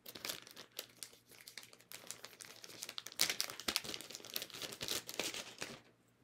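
Plastic packaging around a roll of tear-and-tape adhesive is crinkled and handled close up, irregular crackling bursts with small tearing sounds, no talking.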